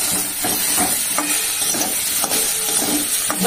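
Hot water poured into a cooking pan of vegetarian food sends up a steady sizzle and hiss, loud and close, with faint stirring knocks and no talking.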